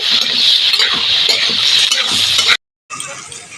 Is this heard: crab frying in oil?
yes